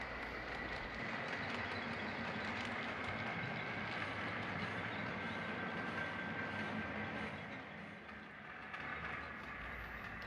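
A Cotton Belt local freight train, the Jonesboro-to-Brinkley local, passes through a station on a model railroad, giving a continuous rumbling roll with a faint steady whine and light clatter, moderately loud and without talk.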